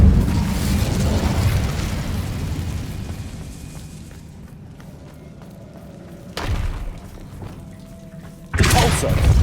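A fire spell, Incendio, cast in the game Hogwarts Legacy, a dense rumbling roar that slowly fades, followed by two sharp, loud bursts near the end.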